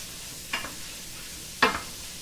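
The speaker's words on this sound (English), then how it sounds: "Let's give this a quick stir through" Tomatoes and rosemary in a pan being stirred, two brief scraping strokes of a utensil over a soft, steady sizzle.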